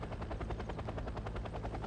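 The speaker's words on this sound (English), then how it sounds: "Beautiful helicopter." Ka-29 twin-rotor military helicopter in the video game Wargame: Red Dragon, its coaxial rotors producing a steady, rapid pulsing thump with a broad engine roar, loud and close, no voices.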